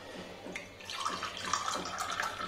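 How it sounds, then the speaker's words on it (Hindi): Lukewarm water, about 200 to 300 ml, poured into a cup: a steady close trickle with a brief splash at the start, soft and with no voices. "अब आप गुनगुने पानी को कप में डाल दिया।"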